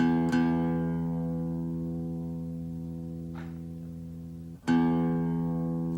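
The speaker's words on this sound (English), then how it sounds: "Low E or 6th string." A guitar's low E, the sixth string, is plucked for tuning and rings with rich sustained harmonics, struck twice with a faint touch between, each note decaying slowly.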